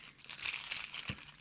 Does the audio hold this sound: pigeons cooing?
no